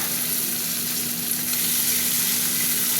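Tomatoes frying with onions in a hot pan make a continuous close sizzle with occasional stirring scrapes, and no voices are heard.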